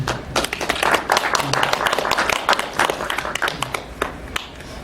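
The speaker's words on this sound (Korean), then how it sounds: "감독님과 이분들께 뜨거운 박수 부탁드립니다" Warm applause from an audience at a film preview screening, greeting the director and staff of a fiction feature based on a true story: dense, steady clapping that fills the whole stretch, fairly close, with voices faintly underneath.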